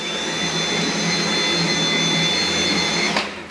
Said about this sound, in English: The Motorhead version, the pink model here in the center, that comes with the floor attachment for doing your vacuuming on the floor.